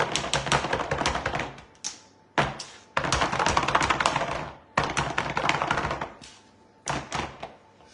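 Filled chocolate tartlet moulds tapped against a kitchen counter before baking, a series of firm, close knocks in quick bursts with short pauses between groups.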